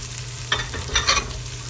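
Onions sizzle in a hot pan as they are stirred, a steady frying hiss with a couple of louder scraping stir strokes over a low constant hum, no talking.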